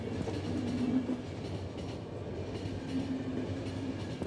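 A train running in the video game The Final Station, a steady rumbling rail clatter with rhythmic wheel noise and a faint metallic squeal, moderately distant and continuous, with no voices.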